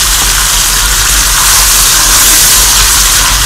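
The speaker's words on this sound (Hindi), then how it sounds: "बस अब हम इसमें डाल देंगे प्याज, जो कि हमने पेस्ट बना लिया था प्याज का" Onion paste dropped into hot oil sizzles loudly and continuously, a dense bright hiss that holds steady throughout with no voices over it.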